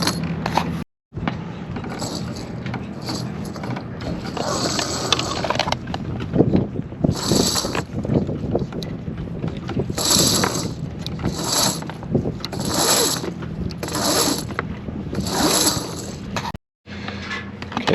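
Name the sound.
rope running through the pulleys of a Garhauer genoa car system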